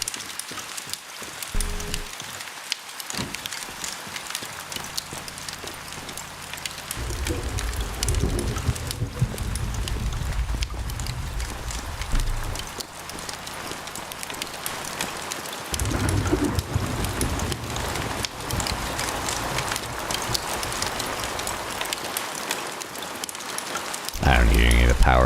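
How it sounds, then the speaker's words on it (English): Steady rain patters and hisses throughout, with occasional low rumbles and bumps underneath and a louder burst near the end. "There's rain."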